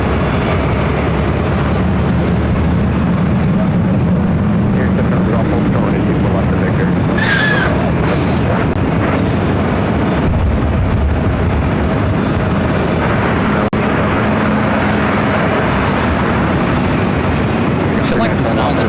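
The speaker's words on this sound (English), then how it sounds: "Another heavy coming our way here to the north side. Iberia Flight 6171, A350-900," An Iberia Airbus A350-900 heavy arrives on the north side at LAX, producing a sustained loud jet rumble with a brief higher whine partway through, heard at close range without voices.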